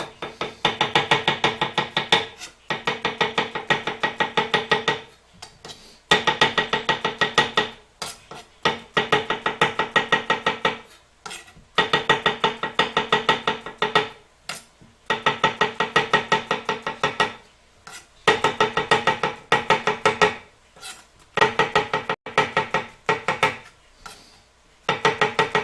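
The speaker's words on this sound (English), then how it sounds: "And next I'm going to do some mushrooms. Again, you can cut these however you want. I'm just going to slice mine." A knife slices mushrooms on a cutting board in steady, rapid bursts of crisp chopping strokes, broken by short pauses, close and clear with no voices.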